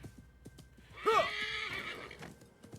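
A horse in Assassin's Creed Mirage whinnies loudly once, a rising and falling call, amid light hoof clip-clops in a quiet setting.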